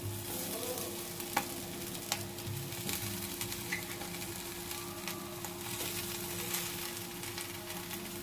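Mashed potatoes stirred into roasted spices in a hot pan, giving a steady low sizzle with scattered scraping clicks from the spoon, close and even, no voices.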